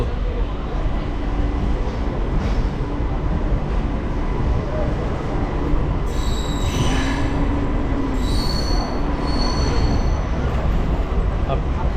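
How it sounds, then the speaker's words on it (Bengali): A local train pulls out of Kharagpur station with a constant loud rumble of wheels and rails. Shrill metallic wheel squeals rise over it in the second half. "খড়গপুর থেকে আমাদের ট্রেন ছেড়ে দিল"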